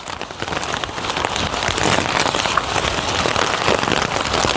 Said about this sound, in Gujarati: બાર કલાકથી વરસાદ ચાલે